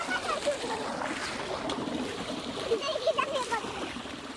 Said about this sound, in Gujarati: પાણીનો પ્રવાહ છે